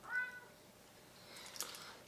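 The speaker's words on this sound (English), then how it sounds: "Cat is losing his mind as we're trying to record this" A house cat named Monty meows indoors, one short meow near the start and a brighter cry toward the end, fairly close and alone without talk.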